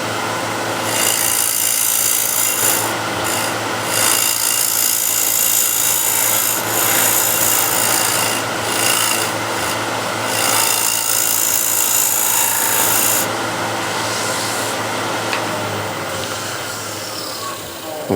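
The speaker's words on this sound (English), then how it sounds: "I'll be focusing the scraper here on this portion" Curved card scraper rasps against wood turning on a lathe, a continuous close scraping over the motor's steady hum, with brief pauses in the cut.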